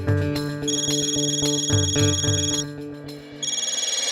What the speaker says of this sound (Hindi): तेरा फोन बज रहा है